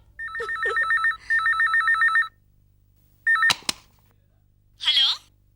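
A telephone rings in two steady bursts, loud and close, then a short clatter and a brief voice follow.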